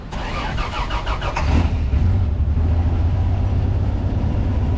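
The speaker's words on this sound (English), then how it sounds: "This thing's fuel injected, so you turn it on, let the fuel pump prime, and listen to this." A fuel-injected 2F engine in a 1974 Toyota FJ40 Land Cruiser cranks briefly with rapid starter chatter, catches, and settles into a loud, deep, steady idle close by.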